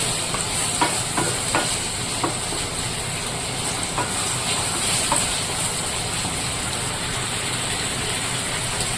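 Continuous sizzling and crackling of small onions frying in a pan, with occasional scraping or stirring taps, steady and fairly close throughout.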